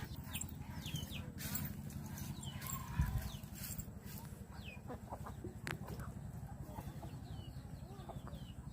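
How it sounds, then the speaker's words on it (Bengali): A flock of domestic ducks comes home to their shelter at dusk, their clucking, squawking calls rising and falling near and far over a steady low rumble of farmyard noise. "এই যে আমাদের হাঁসগুলা আইসা পড়ছে"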